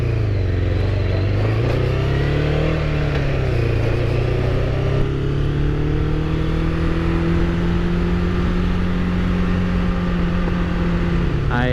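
Suzuki Katana motorcycle with an aftermarket Delkevic exhaust, baffle removed, holding a loud, steady engine drone with rising and falling revs throughout, close to the bike.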